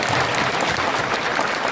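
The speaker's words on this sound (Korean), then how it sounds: "박수." An audience applauds after a lecture with dense, steady, close clapping that fills the whole short moment, with no voices standing out.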